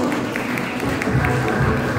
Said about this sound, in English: Request the students to give the big round of applause.